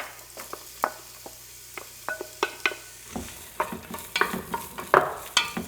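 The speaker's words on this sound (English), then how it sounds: "Get a big stock pot hot. The first thing I add are the onions." Onions cooking in a big hot stock pot for vegetable soup, with quick repeated scraping and stirring clicks over a soft sizzle that grows busier and louder in the second half, no talking.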